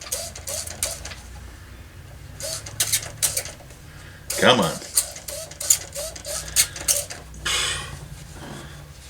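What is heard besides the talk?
spray bottle trigger pumping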